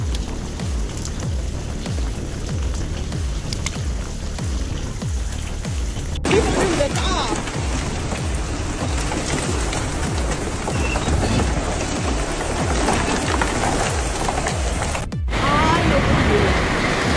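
Hail falls on cars in a storm, a dense, loud, continuous clatter of pellets striking metal and glass, with people talking over it at times.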